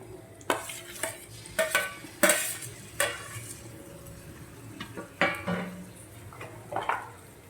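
Roasted eggplant is tipped into a pan for bharta and stirred, giving scattered spoon scrapes and knocks against the metal pan with a faint sizzle underneath, close and moderately loud, no talking.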